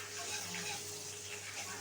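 Whole cumin, dried chillies, cinnamon and bay leaf sizzling in hot oil in a kadai, a soft steady frying hiss with faint crackle, quiet and continuous.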